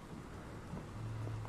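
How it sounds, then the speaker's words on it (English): Thunder rolls in the Blair Witch video game, a low, continuous rumbling mixed with rain noise, moderately loud and steady over the brief moment. "Ooh, thunder."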